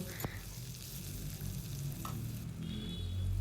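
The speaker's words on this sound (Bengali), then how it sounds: "আলুর টুকরোগুলো এর সাথে একটু নেড়েচেড়ে ভেজে নেব" Potato pieces stir-fried with onion and chilli sizzle quietly in a pan, with scraping stirs and a sharp utensil knock near the start, close and soft, no speech.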